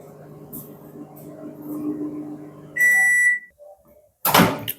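Microwave oven in a home kitchen heating papad and other snacks: a low steady hum, a sharp electronic beep, then a clunk of the door, with a voice speaking over the start.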